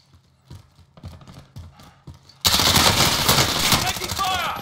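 Gunfire in Call of Duty Modern Warfare erupts suddenly after a few quiet footstep-like thuds, becoming a loud sustained burst of rapid shots with a voice calling out over it.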